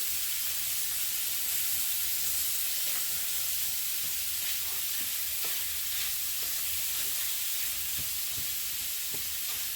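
A lot of meat frying in a hot pan with a little butter makes a loud, continuous sizzle and hiss, with occasional crackles and stirring scrapes throughout.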